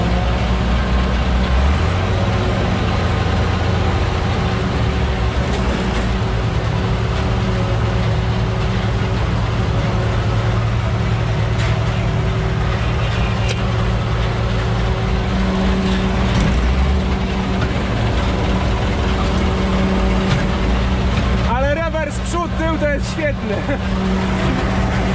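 An Ursus C-330 tractor engine runs continuously with a deep, steady drone while pulling a trailer through a corn harvest, and a short burst of rattling noise appears near the end.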